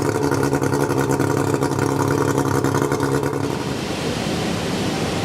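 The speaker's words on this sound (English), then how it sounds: "the engine was being given a run on this inflatable" An outboard engine runs on an inflatable boat, a loud, close mid-pitched drone with a steady rhythmic pulse that shifts to a rougher, noisier churn partway through.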